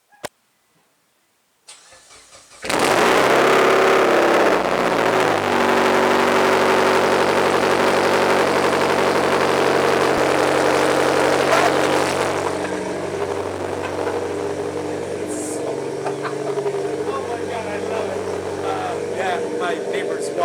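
Mitsubishi Lancer Evolution cold start: a few quiet clicks, then the engine cranks and catches with a loud flare of revs, settling into a steady, high, fast idle that eases lower after about ten seconds.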